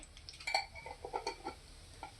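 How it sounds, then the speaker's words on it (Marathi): Cumin seeds dropped into hot oil in a kadhai, crackling with a quick run of small, sharp pops over a low sizzle, faint and close. "आता त्याच्यात जिरं टाकत आहे"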